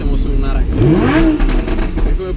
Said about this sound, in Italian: siamo riusciti ad essere su una Lamborghini. In questo momento siamo su una Huracan.